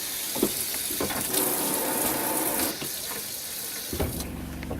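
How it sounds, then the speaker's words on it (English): Water runs from a hose with a spray attachment at the sink of a 2002 R-Vision Trail-Lite 251 RV, a steady hissing flow with a few brief bursts and a change in tone near the end. "Hose with spray attachment."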